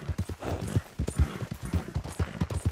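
Horse hooves clip-clopping at a steady gallop in Red Dead Redemption 2, a close, rapid and continuous rhythm with no voices over it.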